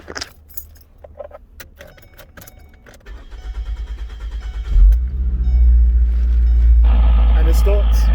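2008 Ford Focus starting after a new starter was installed: keys jangle, then the starter cranks in rapid pulses before the engine catches and settles into a loud, steady idle close by.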